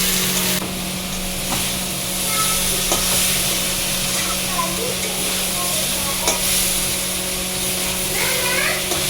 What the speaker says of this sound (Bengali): এবার এতে দিয়ে দেবো আমি কাঁকড়াগুলো। এটা ভালো করে কষাতে হবে।